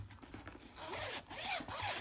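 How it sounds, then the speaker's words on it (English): The zipper of a heavy-duty canvas pencil case is pulled open and shut in several quick, close rasping strokes, quiet and with no talk. "I feel like this zipper is prone to break"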